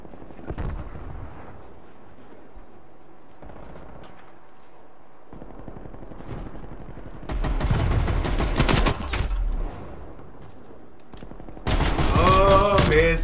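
Rapid bursts of automatic gunfire from a video game, loud and repeated in several clusters, with a final sustained volley near the end.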